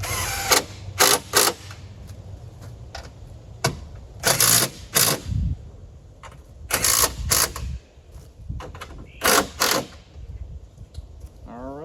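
Plastic headlight bracket screws on a 4th Gen Ram are driven and tightened with a ratcheting tool in several quick bursts of clicking and whirring at close range, separated by pauses of faint background noise.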